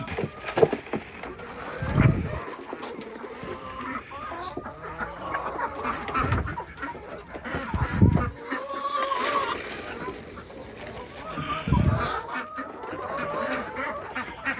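Ducks and chickens being fed in a backyard in America, busy clucking and quacking close by, with a voice speaking and calling to them between the birds.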